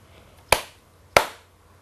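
Two sharp hand claps about two-thirds of a second apart, each a crisp, close slap with a quick decay, marking the syllables of a word in a quiet room.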